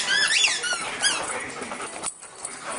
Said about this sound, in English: checking out the squeaker of the new tennis ball, making sure it works